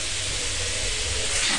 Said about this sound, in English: Oh, you found the steam valve?